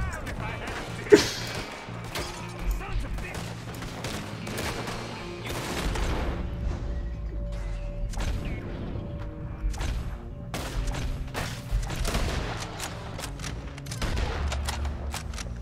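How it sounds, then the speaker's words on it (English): Repeated gunfire in a Red Dead Redemption 2 shootout in the town of Rhodes, with sharp shots scattered irregularly across the scene, one especially loud crack early on, over constant game noise and music. "that was a weird collection of shots that I made there"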